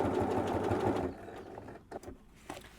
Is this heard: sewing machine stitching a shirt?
yes